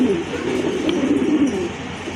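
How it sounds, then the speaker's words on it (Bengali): Rajgolla pigeons at a large breeding farm coo continuously in soft, overlapping low murmurs, fairly close, with a faint chirp or two mixed in and no one talking. "আরেক জোড়া কবুতর, রাজগোল্লা কবুতর।"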